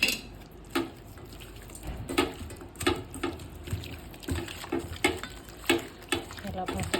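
Raw washed mutton being mixed by hand with salt, turmeric and garlic-ginger paste in a bowl, giving repeated wet squelching and clinking strokes in an uneven rhythm, close and moderately quiet, with faint speech at times.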